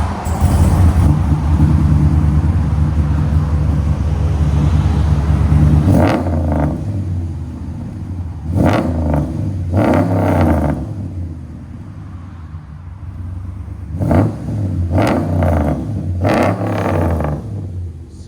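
A RAM 1500 pickup truck with a swapped-in Scat Pack engine roars with a loud, deep, sustained rumble at close range, then settles into a lower idle broken by several sharp throttle blips.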